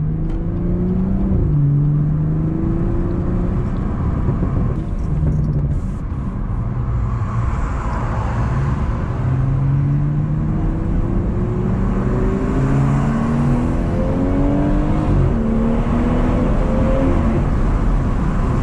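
Car engine revving up through repeated gear pulls on a stock, untuned car during a Friday-night drive, loud and close, rising sweeps with steady road and wind roar throughout.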